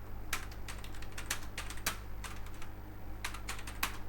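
Rapid clicking keystrokes on a computer keyboard while HTML code is written, close and steady, with short bursts and pauses over a low constant hum.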